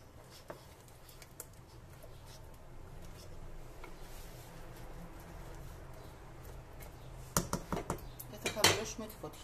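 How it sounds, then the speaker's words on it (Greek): Rice stirred in a cooking pot with crayfish, quiet at first with faint scrapes, then a cluster of sharp metallic clinks and scrapes of a utensil against the pot near the end. "Θα ανακατέψουμε."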